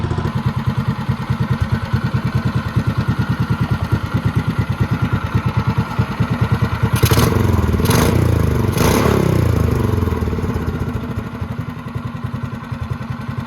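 Predator 212 Hemi small engine fitted with a 22mm Mikuni VM22 carburetor runs steadily at a close, even idle, with rapid chugging pulses and a few sharp clattering bursts partway through as it briefly revs.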